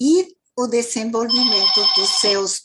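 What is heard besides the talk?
telephone ringing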